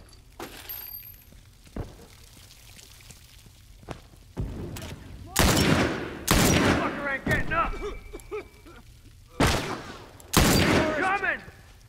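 Rifle gunfire during multiplayer combat in The Last of Us Remastered: several loud, sharp shots spaced a second or two apart, with ringing and debris-like clatter between them over a low ambient rumble.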